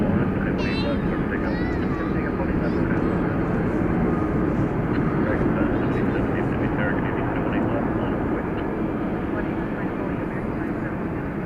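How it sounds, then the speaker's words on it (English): Airplanes taking off at night at DFW Airport: a steady, loud jet engine roar fills the whole stretch, with radio chatter faintly over it. "we've got a nice little parade of planes coming up for takeoff"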